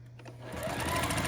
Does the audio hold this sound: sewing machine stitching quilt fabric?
yes